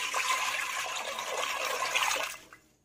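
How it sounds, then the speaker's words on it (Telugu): Water pours into a pressure cooker holding washed rajma, a close, steady splashing gush that runs for a couple of seconds and then stops abruptly. "ఇంత వాటర్ వేసి"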